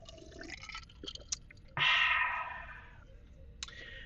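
A brief gulp and slurp of ranch water being drunk near a microphone during a live news stream, with small clicks before and after and no talking.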